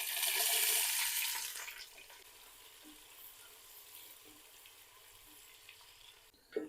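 Onions hiss loudly as they drop into hot oil with cinnamon, cloves, cardamom and peppercorns. The sizzle is strong for the first two seconds, then settles into a softer, steady frying crackle close by.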